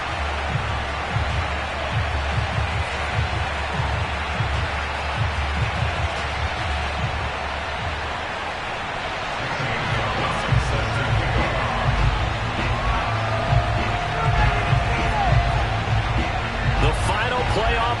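Stadium crowd roaring in an EA Sports NFL video game before a Chicago Bears matchup, a dense steady wash of cheering and noise throughout, growing louder in the second half with a commentator's voice over it.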